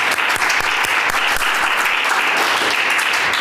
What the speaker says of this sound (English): So let's have a round of applause for our speakers.